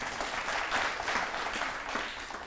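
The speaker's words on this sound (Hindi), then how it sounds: "यहाँ जो लोग बैठे हैं ये भी ताली बजाकर आपकी भावनाओं का सम्मान कर रहे हैं" Steady applause from a seated studio audience at a televised Indian courtroom-style talk show, a dense continuous clatter of many hands, fairly loud with no voices over it.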